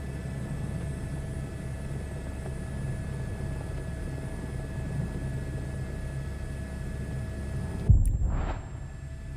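Steady droning rotor and engine hum of a helicopter in a flight simulator game, continuous and even for several seconds, followed by a brief sharp burst of noise near the end.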